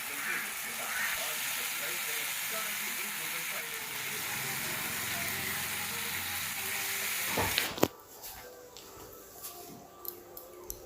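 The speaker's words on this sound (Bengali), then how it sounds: "আমি খুব ভালো করে চিংড়ি মাছগুলো দিয়ে ভেজে নিলাম" Shrimp frying in a pan while cooking a whole taro-leaf dish, a steady loud sizzle for most of the stretch, then cut off abruptly, leaving quieter scattered clinks and faint kitchen sounds.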